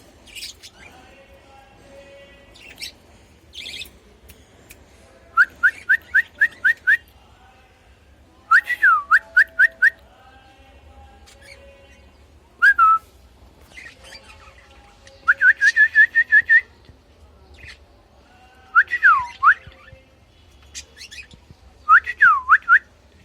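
Pet budgies in a home cage give bursts of sharp chirps and warbling whistles, repeated every few seconds with quiet gaps between and a low hum underneath.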